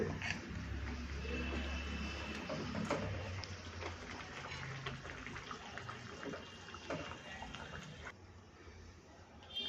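Water poured into a cooking pan, followed by koi fish eased in slowly for tel koi, makes a steady rushing, bubbling flow with a low rumble that continues throughout before easing near the end.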